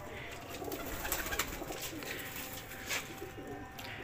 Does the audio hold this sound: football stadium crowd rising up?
no